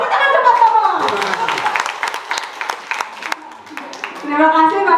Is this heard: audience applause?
yes